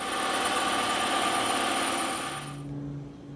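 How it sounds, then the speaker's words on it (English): A bandsaw cuts through EVA foam with a steady, loud broadband whine that drops off sharply near the end as the cut finishes and the blade runs on more quietly. "We're going to cut this on the bandsaw."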